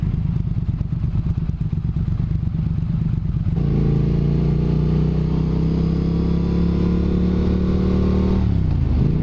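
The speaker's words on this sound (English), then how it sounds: "The rumble of this exhaust. Love my rumbly exhaust." A 2022 Triumph Speed Twin with a Tec exhaust rumbles loudly and close, first a pulsing idle, then a steadier, deeper drone as the revs rise, before it drops back near the end.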